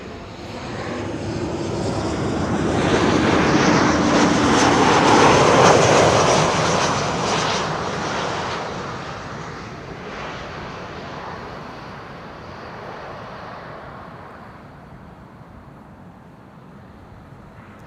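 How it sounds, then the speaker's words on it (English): A KLM passenger jet arriving at Amsterdam Schiphol from Newcastle roars past, its engine noise swelling to a loud peak midway and then fading into a steady distant rumble, with no voices. "KLM flight 954 up next"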